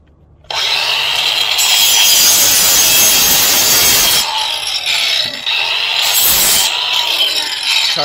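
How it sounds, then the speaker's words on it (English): An angle grinder cuts off a pipe in one loud, continuous, harsh grinding run that eases briefly midway and then carries on close up. "So I just have a grinder."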